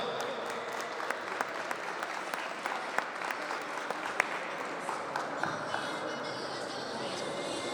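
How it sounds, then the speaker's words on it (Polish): Steady applause from the crowd at a youth football tournament closing ceremony for players born in 2010, clapping evenly throughout with a few sharper claps standing out. "Również poprosimy o wielkie brawa."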